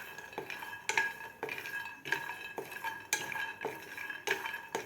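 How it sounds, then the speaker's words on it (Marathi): Coconut and peanuts roasting in a pan over a medium gas flame for a village-style val bean pod curry, heard as a steady run of stirring scrapes and light clinks about once a second, close and fairly quiet. "आपल्याला मीडियम गॅसवर खोबरं आणि शेंगदाणे व्यवस्थित भाजून घ्यायचं आहे"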